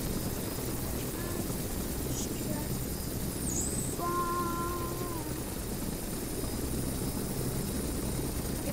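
A helicopter flies in Microsoft Flight Simulator X multiplayer, its rotor and engine making a constant, steady drone throughout, with a few faint electronic beeps and tones over the top.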